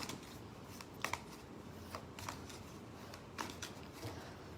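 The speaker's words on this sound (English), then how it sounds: "I usually don't shuffle on camera because I'm not the best shuffler, but it tends to get the job done" Tarot cards being shuffled by hand, a quiet, soft riffling with several brief louder flicks and slaps spaced irregularly, close and faint with no talk.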